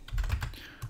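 Fingers type on a computer keyboard close up, a quick cluster of several soft keystrokes followed by a brief pause and one more tap.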